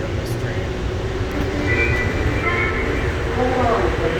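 An automated people mover train at Denver airport runs along its guideway with a steady, loud rolling rumble and faint higher whines, close and continuous throughout.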